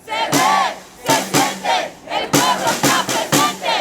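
A large protest crowd chants "Se ve, se siente, el pueblo está presente" in unison, loud and close, with repeated bursts of shouted syllables.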